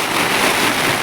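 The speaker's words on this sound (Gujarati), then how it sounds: "વરસાદ આવી ગયો ફૂલ થાય" Heavy rain pours down during a storm, a dense, steady hiss that stays loud and even for the whole short stretch.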